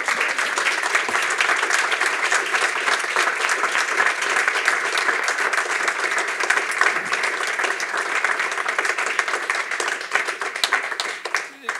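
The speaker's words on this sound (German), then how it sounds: "Nochmal einen großen Applaus" An audience claps steadily at a talk on refugee camps, from Moria to a closed controlled access center; the applause is loud, dense and continuous throughout, with no voices heard over it.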